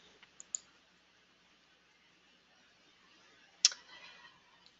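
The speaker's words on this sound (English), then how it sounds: "Okay, so I'm going to click here to upload." Computer mouse clicking while uploading a file: a few faint, sharp clicks early, then a louder click near the end, in an otherwise quiet room with no talking.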